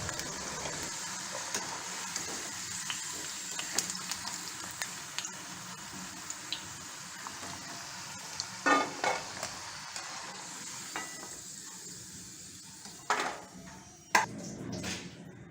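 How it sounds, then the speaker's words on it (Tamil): Yam pieces deep frying in oil give a continuous close sizzle that holds at an even level, broken by occasional clinks and scrapes of a utensil against the pan. "வச்சுருக்க எல்லா கிழங்கையும் நம்ம வந்து டீப் ஃப்ரை பண்ணி எடுத்துடலாம்."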